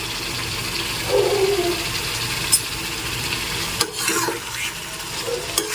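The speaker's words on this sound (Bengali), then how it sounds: "এখন ভালো করে মিশিয়ে নিচ্ছি নেড়ে চেড়ে" Egg curry being stirred in a pan, a soft steady scraping and sizzling with a few clinks of the spoon against the pan, close and continuous.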